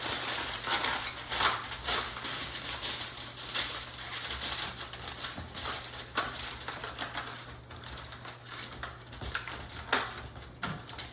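Aluminium foil crinkled and pressed over a dish of smothered pork cube steak, close crackling rustles and sharp crinkles in uneven bursts that continue throughout, with light clinks against the dish and no voices.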